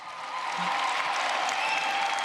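Steady applause from a crowd at a high school graduation ceremony, a dense wash of clapping that continues throughout without pause.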